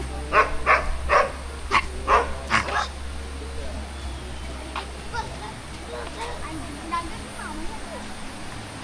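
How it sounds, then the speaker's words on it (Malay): A guard dog barks in loud, sharp bursts, several in a row and then sparser, outdoors near a waterfall on a snowy hillside, with a low steady rumble underneath. "Anjing penjaga."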